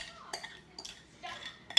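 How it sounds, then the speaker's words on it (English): A whisk scraping pumpkin from a mixing bowl for pumpkin cream cheese muffin batter, a few soft clinks and scrapes spaced through a short, quiet moment. "I'm going to use the whisk to scoop the pumpkin in."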